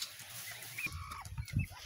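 A brooding hen on her nest gives soft, low clucks and murmurs, close but quiet against a faint background hiss.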